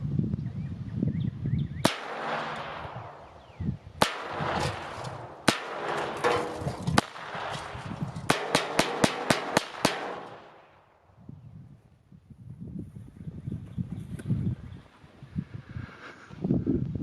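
Sharp .22 pistol shots from a Beretta U22 NEOS fired at beer cans outdoors on a rural property, several spaced cracks and then a rapid string of about eight quick shots, loud and close, with quieter rustling before and after.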